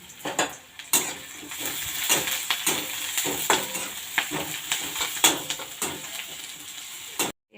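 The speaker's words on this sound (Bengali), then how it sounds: "তেল গরম হয়ে গেছে আমি শুকনো লঙ্কা দিয়ে দিলাম এরপর পেঁয়াজ কুচি দিয়ে দিব" Dried chilli, chopped onion and garlic fry in hot oil in a pan, with a steady close sizzle broken by repeated scraping stirs and light clinks of a utensil against the pan.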